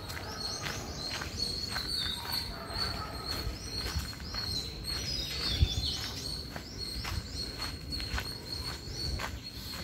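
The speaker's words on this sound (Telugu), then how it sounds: "బర్డ్స్ సౌండ్స్ కూడా బాగా వస్తున్నాయి ఈ పార్క్లో" Birds chirp and sing in a city park in Hyderabad during a morning walk, repeated short calls at moderate distance over quiet background noise, with faint footsteps.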